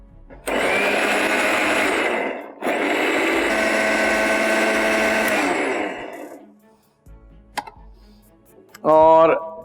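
A loud mixer grinder whirs continuously, pureeing food in two long bursts with a brief pause between, then stops; faint clicks and a short voice follow.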